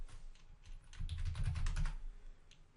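Computer keyboard typing, a short run of soft, rapid key clicks up close over a low background hum, with no talking.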